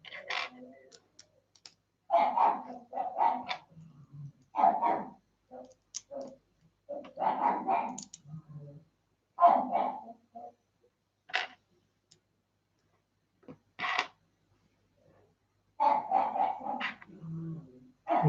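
A pug barking indoors in short sharp bursts, separated by pauses, fairly close and loud, with occasional faint clicking in between.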